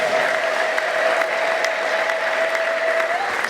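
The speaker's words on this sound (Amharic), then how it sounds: "አጨብጭቡ ለጌታ።" A church congregation claps for the Lord in steady, loud, sustained applause with a faint tone running beneath it.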